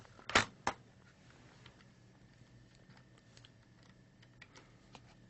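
Two sharp, close computer keyboard key presses clack in quick succession, then only faint scattered ticks over a quiet room background.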